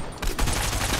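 Sustained Fortnite gunfire during a Zero Build squads tournament match, a dense loud burst of shots filling the whole second without pause.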